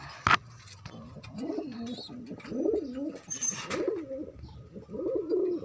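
Pigeons coo in repeated low, rolling calls close by, a few overlapping phrases that rise and fall, after a sharp click near the start.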